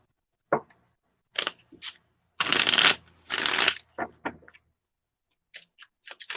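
A Light Seers Tarot deck being shuffled up close, with several separate bursts of riffling and card slaps separated by short silences, no talking.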